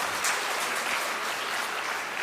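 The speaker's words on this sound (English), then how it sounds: "Big round of applause for them again." Audience applause for a student performance at an institute's foundation day celebration, a steady wash of clapping that stays even and fairly distant throughout with no talk over it.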